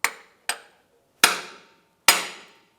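Four sharp, ringing hammer blows strike a flat plate, pressing an exhaust part into place on a 2000-2006 Chevrolet Tahoe catalytic converter assembly. The blows are loud and close, with pauses between them.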